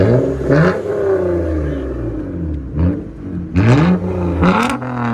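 A Lexus ES 350 with a 3.5L V6 on a straight-pipe exhaust revs hard close by: a loud, raspy engine climbs and falls through several throttle blips, then a final pair of sharp revs.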